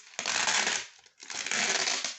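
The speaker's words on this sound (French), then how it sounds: "désolé pour le bruit du scotch." Two bursts of sticky tape being pulled off a roll, loud and close, with a brief pause between them.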